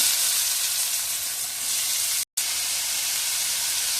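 Loud, continuous sizzling of onions frying in hot oil with cinnamon and fennel seeds, with a brief silent gap midway before the crackle resumes.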